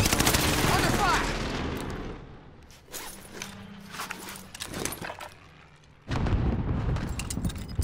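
Gunfire and explosive bursts in the Call of Duty Modern Warfare video game, with rapid shots loud at the start, quieter scattered pops and thumps through the middle, then another loud burst of fire near the end.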